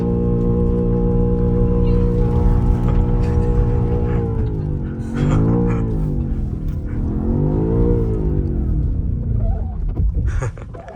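A BMW XM drifting in snow, its engine roaring loudly and steadily close by, with the revs rising and falling twice as the car slides.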